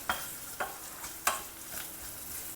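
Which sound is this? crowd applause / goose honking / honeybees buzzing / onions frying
onions frying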